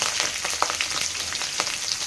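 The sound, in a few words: mustard seeds, garlic and chillies frying in oil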